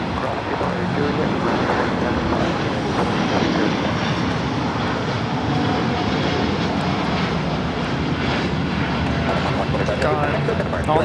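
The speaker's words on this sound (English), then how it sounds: "All Nippon Airways 125 taking off to Tokyo Haneda on the 787-9 Dreamliner" An All Nippon Airways Boeing 787-9 Dreamliner takes off from Los Angeles LAX, bound for Tokyo Haneda, giving a loud, steady, continuous jet roar that fills the whole stretch, with voices faintly audible over it.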